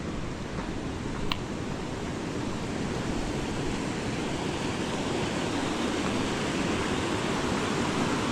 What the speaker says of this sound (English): Water's running pretty good.